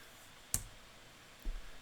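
A single sharp mouse click on a computer while switching back to presentation slides in a science lecture, a brief isolated tick followed by a faint low thump about a second later, in an otherwise quiet room.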